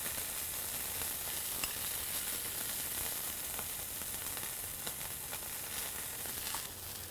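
Impossible Burger patties sizzle on a hot cooking surface, a continuous crackling hiss with small pops and no talking.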